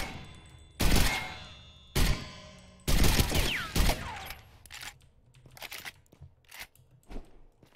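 A fully automatic sniper rifle fires in Ghost Recon Phantoms, loud sharp bursts at irregular intervals with fainter follow-up shots and mechanical clicks trailing off, the shooting heard alone without talk.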